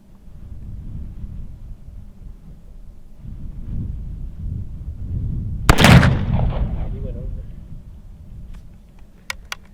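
A Remington Rolling Block rifle chambered in .43 Spanish fires a single sharp, loud shot midway through, and the report trails off in a brief echo. Steady low outdoor rumble sits underneath before and after.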